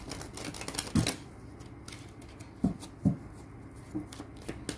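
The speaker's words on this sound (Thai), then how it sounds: "ขอสับไพ่ก่อน" Tarot cards shuffled by hand during a reading, giving soft papery riffles with a few sharper slaps of the deck near 1, 2.6 and 3 seconds over a quiet room hiss.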